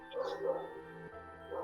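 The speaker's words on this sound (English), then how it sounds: "Why is the dog barking?" A dog barks and yips a few times in the horror mystery game Paranormasight: The Seven Mysteries of Honjo, short sounds set over a droning music bed.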